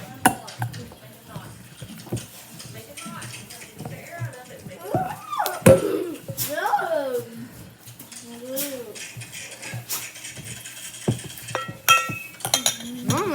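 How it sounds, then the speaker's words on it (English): Homemade slime stirred in a bowl, with soft sticky clinks and scraping that come and go under a child's chatter and several voices. "I'm gonna keep on stirring it,"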